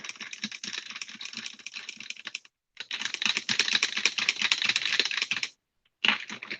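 A spoon stirs Dalgona coffee and cream in a glass, sending quick, close rattling clinks in two long bursts and a short third one, separated by brief silences.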